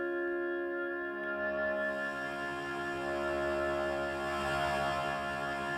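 A sustained Haken Continuum synthesizer tone with many steady harmonics, thickened by warm, gritty tanh saturation that brightens slightly over several seconds, with no talking.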